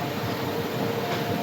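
Indore-Veraval Mahamana Express hauled by a WAP-7 electric locomotive pulls away from Navagadh, a steady broad rolling rumble of wheels and coaches close by, continuous and even throughout.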